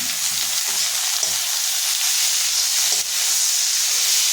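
Tomato fries in a hot pan with a loud, continuous sizzle and hiss, broken by faint stirring scrapes and small bumps, heard close up with no talking.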